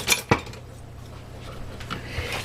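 Roasted broccoli soup vegetables dropped into a pot, two quick clattering knocks at the start followed by faint scraping and rustling.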